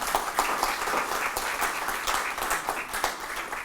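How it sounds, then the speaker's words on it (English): Audience applause for award recipients at a leadership roundtable and awards event in Delhi, a steady wash of many hands clapping together, moderately loud and sustained throughout with no speech over it. "So let's give them one round of big applause for all their achievements we have done."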